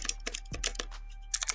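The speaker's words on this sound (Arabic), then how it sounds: "تعالوا بقى مع بعض نسمع صوت الكيبورد ونشوف وتحكموا انتوا ايه رأيكم" Typing on an Aula F2058 mechanical keyboard with blue switches: quick, crisp, clicky keystrokes in uneven bursts, close and fairly quiet, with no other sound.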